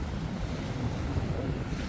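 Red Sea surf washing onto a beach in Marsa Alam, Egypt, heard as a steady, close wash of water mixed with wind buffeting the microphone, with no pauses and no voices.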